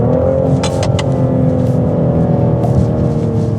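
A BMW X5 xDrive50e plug-in hybrid with a ZF automatic gearbox drives under steady load, heard from inside as a loud, continuous low engine drone and road rumble that stays even, with the smooth shifts barely noticeable.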